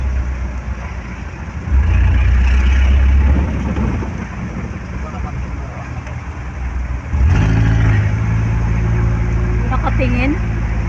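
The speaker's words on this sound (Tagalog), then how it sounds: "Haba ng traffic, sinabayan ng lakas ng ulan." Vehicles crawl through a traffic jam in heavy rain, engines swelling twice as they rev and pull forward over a constant rain hiss, with a whining tone rising near the end.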